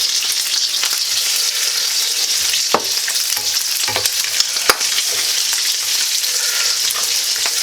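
Sausage frying in a pan with salt, a steady loud sizzle broken by a few sharp scrapes and clicks as it is stirred, with no voices.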